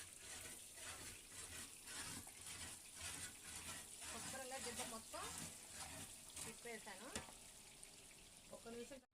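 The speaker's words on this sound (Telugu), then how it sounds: "ఇవైతే శుభ్రంగా మనం వేయించుకుందాం" Murukulu made with moong dal sizzle in hot oil, a steady crackling fry with soft stirring and scraping, close and moderately loud, with brief voices in the background.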